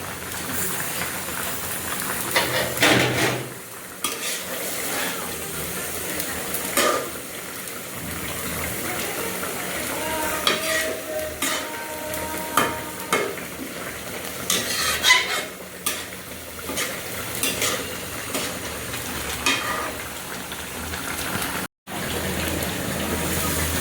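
Fried fish is added to a boiling eggplant curry in a village kitchen and stirred, with bubbling, sloshing and sizzling under repeated scraping strokes of a spoon, close by and fairly continuous.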